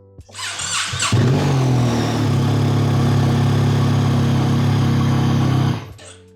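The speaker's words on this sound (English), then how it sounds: "let's see what happens when I crank the engine" A motorcycle engine cranks briefly and catches, then settles into a steady, loud, close idle that runs several seconds before cutting off abruptly.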